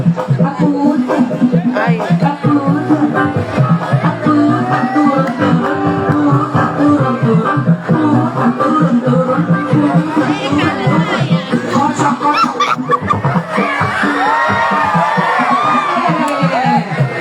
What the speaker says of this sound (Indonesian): Iya, tepuk tangan dulu dong buat Incas